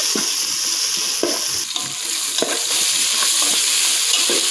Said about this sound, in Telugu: వేసేసుకొని కలుపుదామండి. కొద్దిగా వేగనిద్దాం ఫ్రెండ్స్.